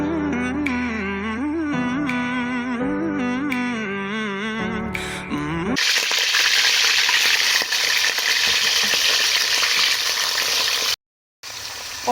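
Chunks of beef hit hot oil in a saucepan and break into a loud, continuous sizzle and crackle, after a stretch of music and before a brief cut to silence.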